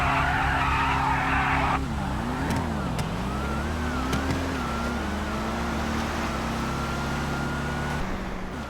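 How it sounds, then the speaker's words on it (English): Tires squeal through a burnout launch by a Dodge Hellcat drag car in a GTA street racing game, with engine drone and a sustained skidding squeal that eases after about two seconds while the motor keeps running, loud and close. "Farco tries the OG burnout launch, and it does backfire on him"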